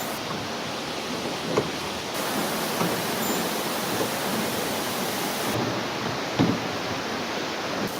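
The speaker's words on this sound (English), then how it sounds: "check out that waterfall" Steady broadband rush of a waterfall heard from a rowing boat on a river outing near Nagoya, a continuous loud roar with a couple of brief knocks and no speech.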